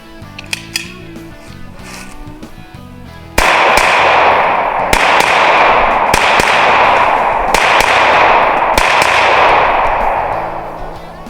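Chiappa 1911-22 pistol fired at 5 yards on a range: after a few quiet handling clicks, six sharp loud cracks ring out at roughly one-second intervals, each trailing a long echoing decay.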